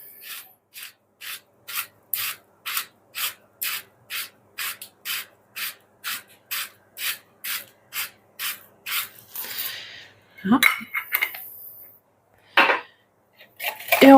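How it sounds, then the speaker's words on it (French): A spoon scraping round a bowl while stirring a leek and bacon tart filling, a steady rhythmic series of about twenty short rasping strokes, close and clear, followed by a few irregular clinks and scrapes. "Et on remue."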